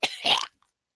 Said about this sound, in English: I cough out all the blood.